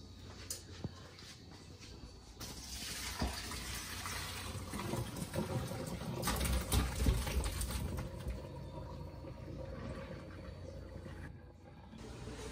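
Tap water gushes and splashes while raw chicken is rinsed in a kitchen for Bahamian chicken souse, a steady running stream with shifting splashy surges, fairly faint and without talk.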